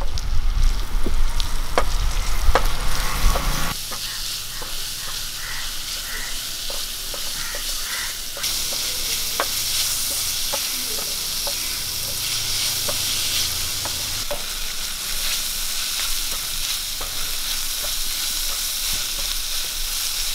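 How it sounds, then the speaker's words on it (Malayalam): Sliced onion sautés in a pan for an egg roast, a loud sizzle that drops after a few seconds into steady frying, punctuated by repeated ladle taps and stirring scrapes, with no voices. "ഇനി ഇതിലേക്ക് ഒരു സവോള അരിഞ്ഞത് ഇട്ട് കൊടുക്കാം. ഇത് നല്ലപോലെ ഒന്ന് വഴറ്റാം."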